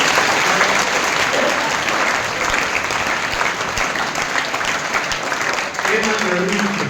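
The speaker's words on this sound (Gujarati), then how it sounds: "ફરી અલ્તાફ સાહેબ માટે તાળીઓ પાડો." Seminar audience applauds a guest in a continuous, loud wash of clapping, with voices audible beneath it.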